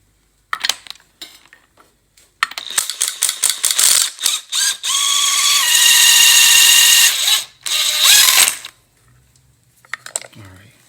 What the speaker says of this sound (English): We're going to hit it with the impact. It's a 19mm.